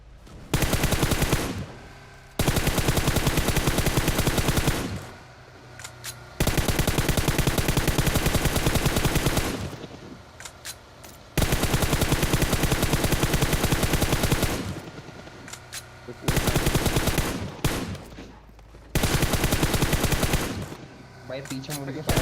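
Loud automatic gunfire from the PUBG Mobile battle royale game, heavy sustained bursts of several seconds each separated by short pauses, close and dominant, with some game noise underneath.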